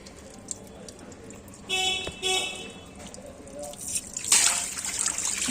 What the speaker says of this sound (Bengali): এখন জলটা মোটা হয়ে পড়ছে।